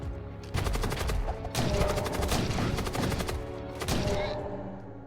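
Rapid gunfire rattles in continuous fusillade bursts as a ship fires on enemy weapon systems in the space combat game Void War, loud and dense for several seconds with no talk over it.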